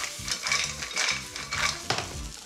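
A generous piece of butter melts in a hot pan of mussels, a close sizzle mixed with rhythmic clattering and stirring of shells against the metal pan.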